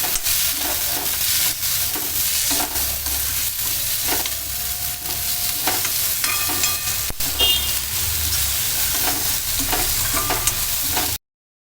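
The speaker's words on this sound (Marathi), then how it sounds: "कांदा, गोडा मसाला सगळं त्याच्यामध्ये मिक्स करायचं आहे. त्याने फ्राय करून घ्यायचं." Onion and goda masala fry in a pan for a Konkani prawn dish, giving a loud, steady sizzle broken by repeated scraping and clinking stirs. It ends abruptly, with no talk.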